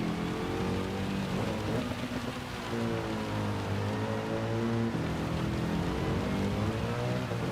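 Steady rain falls in a racing video game, a dense, even wash of noise running the whole time with a low engine-like drone underneath and no voices.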